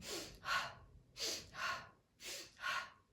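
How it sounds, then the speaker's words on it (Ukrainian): Rhythmic breathing exercise with paired breaths, each a pair of sharp nasal inhalations or exhalations, repeated three times at close range in a quiet room with no talk. "Наступний вдих ми робимо в протилежну сторону."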